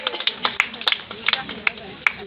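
Audience clapping at a women journalists' honour ceremony, a few separate hands striking in a loose, irregular patter at moderate volume, with a voice speaking over it.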